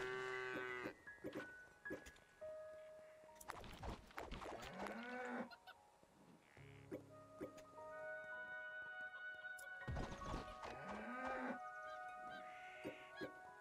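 Cows in the Craftopia video game moo in long, loud, harmonic calls, several in overlapping bursts over a steady outdoor ambience with no talk.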